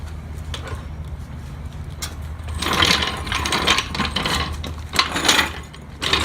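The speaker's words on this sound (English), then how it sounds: "So I'm going to move the jack." A floor jack is rolled and ratcheted under a car's differential on a Nissan 240SX (S14) with an LS1 engine, giving clattering metallic clicks and scraping that grow louder midway, close by.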